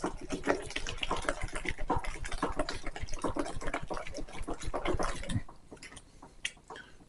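Liquid pours from a measuring cup in a steady, close splashing stream for about five seconds, then tapers into a few faint drips and small sounds.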